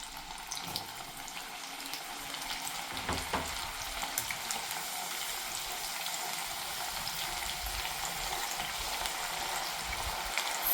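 Field beans frying in hot oil on a low flame, a dense continuous sizzle and crackle close to the pan, with a few stirring knocks and no talking.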